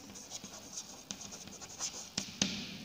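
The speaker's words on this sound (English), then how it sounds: "let me write here 4 forms" Chalk or marker writing on a classroom board, faint scratchy strokes and taps in short bursts, quiet and close.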